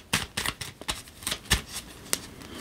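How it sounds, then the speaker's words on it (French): A deck of tarot cards being shuffled and cut up close, with a quick run of crisp riffling slaps and flicks, each burst short and sharp, and no speech over it. "je coupe et je prends"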